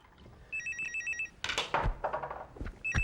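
A telephone rings with repeated electronic trill bursts, two clear ring cycles separated by clattering movement and thumps, moderately loud and close.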